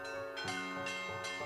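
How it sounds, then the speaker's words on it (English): Church bells ringing for a royal wedding procession through the streets to Notre Dame, with steady, resonant peals repeating roughly every half second, full and sustained. "the bells fill the air"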